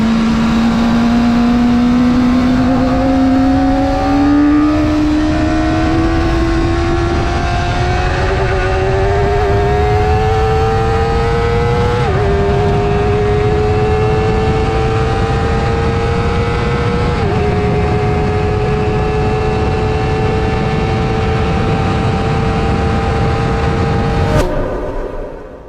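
A Kawasaki ZX4R motorcycle at full throttle in fifth gear near 207 km/h, its loud high-revving engine whine climbing steadily with brief dips at shifts, continuous and close with strong wind roar, then cutting off abruptly at the end.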